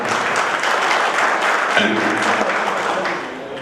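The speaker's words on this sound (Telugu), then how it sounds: "మీ అందరూ కూడా చప్పట్లు కొట్టాలి." Party workers at a BRS office meeting in Nizamabad break into steady applause, a dense crowd clapping continuously at close range that thins slightly toward the end.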